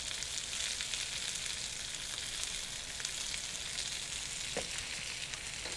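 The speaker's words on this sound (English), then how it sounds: "Got that hyped fire, kind of char them green beans a little bit." Green beans charring over a hot fire, giving a steady, fairly faint sizzle and crackle with no voices.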